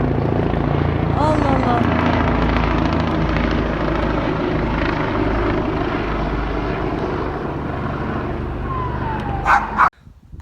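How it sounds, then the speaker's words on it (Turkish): A helicopter broadcasting announcements during a curfew roars low and loud overhead, a steady thudding drone that holds throughout, with a voice speaking briefly beneath it before it cuts off abruptly. "Baksanıza helikopterle anons çekiyorlar."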